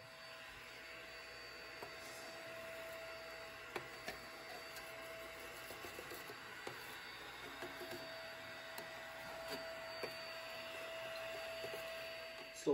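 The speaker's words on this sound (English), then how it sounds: "Then I'll vacuum, which is pretty annoying." A SnowJoe ash vacuum drones steadily and evenly throughout, with scattered small clicks and knocks over the motor noise.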